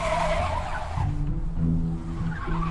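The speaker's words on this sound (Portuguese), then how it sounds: "Esse motorista imprudente acelera na curva e perde o controle." Car tires skidding and squealing as a reckless driver speeds into a curve and loses control, a loud sustained screech with engine noise, close and steady, then a lower rumble as the slide continues.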